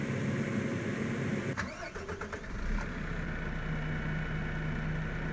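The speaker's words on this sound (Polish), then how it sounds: "Tutaj mamy traktor zakupiony przeze mnie." Tractor engine starting in Farming Simulator 2015: a cranking starter whirr catches midway, then the motor settles into a steady mid-pitched idle hum, no voices.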